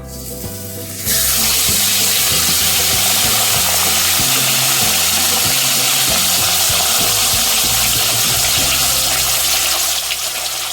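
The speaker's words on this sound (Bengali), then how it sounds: "এখন আমি একে একে মাছগুলিকে ভেজে নেব" Salted katla fish pieces, seasoned without turmeric, sizzle in hot oil for a Bengali doi katla, a loud steady hiss that starts after a brief quiet moment and holds evenly to the end.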